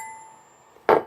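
A single short tap of a fingernail against a silver knife, a dull, close click near the end, following a faint fading ring.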